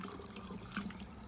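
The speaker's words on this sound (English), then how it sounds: "I'm going to pour the water into the funnel." Water poured from above through a funnel into a bottle, a faint continuous trickle and splashing gurgle, close and quiet.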